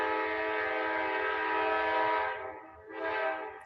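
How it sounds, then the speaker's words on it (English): A train passes with a loud, sustained horn blast, steady for a couple of seconds before briefly dipping and swelling again, over a low rumbling roar of the rail cars. "That's a train passing by."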